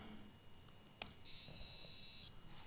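An electronic beeper on a JavaScript-controlled board sounds one steady high-pitched tone lasting about a second, preceded by a faint click, quiet and alone in a conference room.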